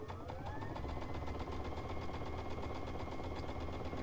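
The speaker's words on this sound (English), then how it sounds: "And we're just going to sew there." A home sewing machine with a laser guide stitches a quilt block seam for a Shoo Fly star block, running as a steady continuous mechanical whir with a fast rhythmic needle pulse throughout, close and even in level.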